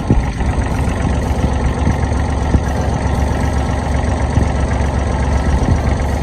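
Kubota L3408DT tractor diesel engine idling, a steady, loud low-pitched rumble with faint knocking pulses, continuous and close with no talk.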